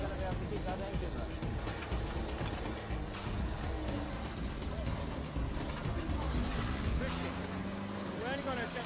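A Scrapheap Challenge machine's engine runs steadily at a loud, continuous drone, with mechanical rattling and clanking layered over it and voices audible underneath.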